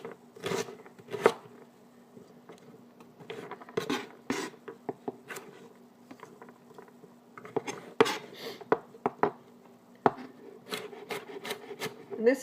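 A knife dicing cranberry beans on a cutting board, irregular clusters of sharp taps and soft scraping, close but fairly quiet, with pauses between bursts of chopping.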